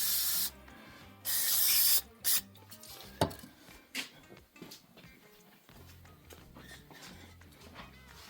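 Cleaner sprays onto carburetor parts in short, sharp hissing bursts, followed by softer scraping and clinking of metal parts being handled, fairly quiet and close, with no talking.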